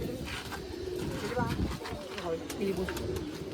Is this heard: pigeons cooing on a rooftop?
yes